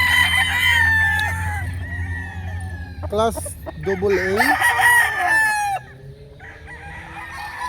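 A rooster crows loudly and close by, one long strained call with clucking around it, while someone talks over it and other fowl cluck in the background.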